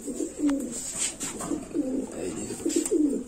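Doshok pigeons, a mated male and female pair, coo nearby in soft, repeated throaty phrases, a close rolling murmur with faint background noise.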